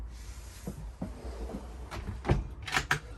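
Drawers in a 2021 Frankia Platin I8400 QD luxury motorhome slide open and shut, a series of soft knocks and sliding clatters building to sharper close thuds near the end, with no talking.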